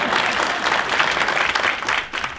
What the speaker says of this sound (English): We'll give a round of applause for the timekeeper